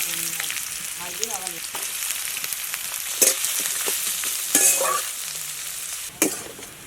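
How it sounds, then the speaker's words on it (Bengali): Chopped pieces frying in a pan for a small-fish curry with roasted spice paste: a close, continuous sizzle with spatula stirring and scraping, punctuated by a few sharper clattering hits. "কুচিগুলো ভেজে নেব।"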